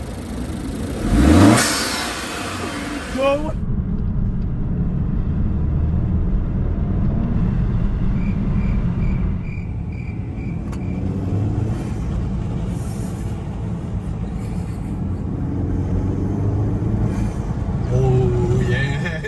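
Honda Accord 2.0T turbo engine with a Mishimoto cold air intake, a sharp rev at the start and then a steady mid-pitched engine drone at idle and light throttle, with people shouting and talking over it.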